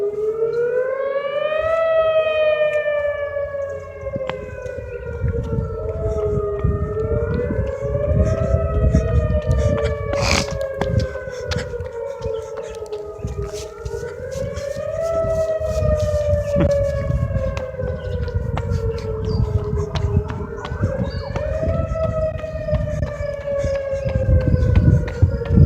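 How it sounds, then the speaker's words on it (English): A civil defense tornado siren being tested in Platteville, its rising and falling wail sweeping repeatedly in long cycles, loud and continuous against faint background noise. "I'm hearing another siren test."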